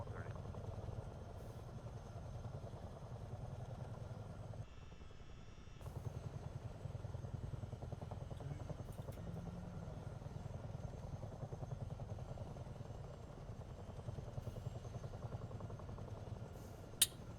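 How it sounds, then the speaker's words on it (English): A Chinook helicopter in Microsoft Flight Simulator 2024, a steady low rotor and engine drone running throughout with a brief dip partway, mid-level and continuous, with a few faint clicks. "Dude's flying Chinook, bro."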